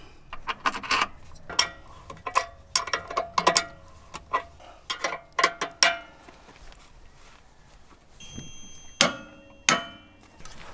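A bolt on a Jeep JL Wrangler steering tie rod and drag link being tightened, a series of sharp metallic clicks and ratcheting ticks, close and fairly quiet, irregular with brief pauses.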